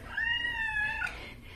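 A young male shelter cat lets out one clear, drawn-out meow, close and loud, about a second long, in a quiet room with no talk.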